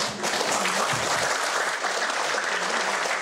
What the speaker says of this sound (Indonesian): kasih tepuk tangan sekali lagi dong